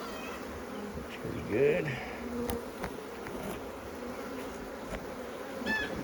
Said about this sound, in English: I've had these bees for about 10 years, this hive.